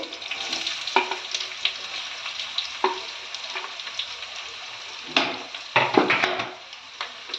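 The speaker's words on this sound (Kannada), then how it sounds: "ಈರುಳ್ಳಿ ಹಾಕಿ ಇದನ್ನು ಚೆನ್ನಾಗಿ ಫ್ರೈ ಮಾಡ್ಕೋಬೇಕು." Chopped onions with green chillies fry in hot oil for oggarane mandakki, a steady bright sizzle broken by several louder scraping stirs of a spatula against the pan, close and without voices.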